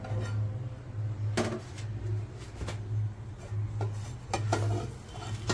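A lid lifts off a cooking pot of shark thoran, with several close metallic clinks and scrapes over a low steady kitchen hum.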